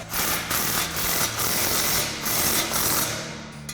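A 14 mm wrench tightens two exhaust bolts on a 2009-2021 Toyota Tundra while an MBRP 3-inch single exhaust is fitted, producing loud, rhythmic ratcheting bursts about twice a second, close up and with no talking.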